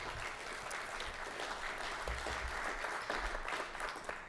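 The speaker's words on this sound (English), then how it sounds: "Yes, please give her a loud round of applause." Attendees at a university student and staff awards ceremony give Dr. Younger a round of applause, steady crowd clapping heard fairly quietly with a low rumble underneath.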